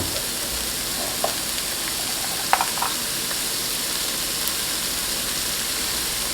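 Coconut shrimp fried rice with garden peas sizzles steadily in a pan, with a few short scraping stirs over the constant hiss.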